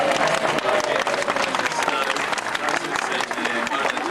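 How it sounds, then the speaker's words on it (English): Outdoor crowd clapping at a flag-lowering farewell at Longleat, steady dense applause filling the whole stretch, with voices and bustle mixed in. "Get a bit more clapping, we should finish the journey this time."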